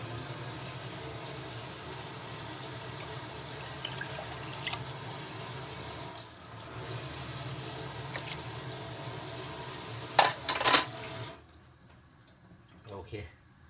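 Tap water runs steadily into a sink while raw chicken is washed, a continuous close hiss that cuts off shortly before the end, leaving a few clinks and faint background sounds.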